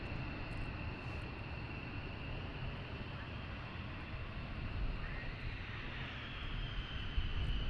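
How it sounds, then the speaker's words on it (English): An F-15 jet taxiing at RAF Lakenheath, a steady engine whine and broad roar heard from some distance, slowly swelling toward the end, with someone talking quietly over it. "So you're going to get some nice aircraft taxiing over this way."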